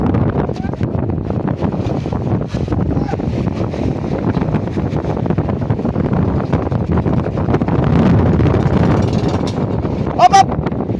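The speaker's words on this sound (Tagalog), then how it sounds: "Dahil lumakas ata ang hangin." Strong wind at sea buffeting the microphone, a steady loud roar throughout with a brief louder gust near the end, while someone talks under it.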